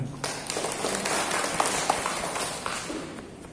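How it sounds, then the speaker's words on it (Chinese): An audience at a religious talk in a Taiwanese Buddhist hall bursts into steady applause, a dense crowd of clapping hands that continues for several seconds, with faint scattered voices underneath. "我们掌声鼓励一下。"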